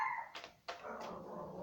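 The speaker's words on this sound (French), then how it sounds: "J'ai mon petit chien qui aboie" A small dog barks indoors in a few short, sharp bursts, then quiets.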